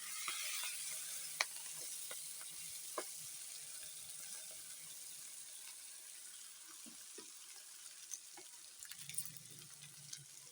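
Chicken pieces frying in a pan for a creamy chicken mushroom dish, a steady broadband sizzle with scattered crackles and pops, fairly quiet and close, with no talking.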